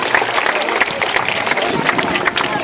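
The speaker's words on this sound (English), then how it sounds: "Give yourselves and Bailey a round of applause." An audience claps at a sea lion show at Whipsnade Zoo, a brisk, dense patter of many hands that carries on steadily for a couple of seconds, fairly loud and close.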